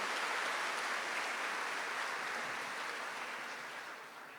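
An audience at a high school graduation ceremony applauds in a continuous wash of clapping heard from a distance in a large space, slowly tapering off at the end.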